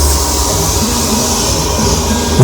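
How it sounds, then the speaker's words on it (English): A steam train comes to a stop, a loud, dense rumble of rolling wheels and machinery with a low droning hum that holds steady throughout, then a sudden heavier low-pitched burst right at the end. "Sound of a steam train stopping and go."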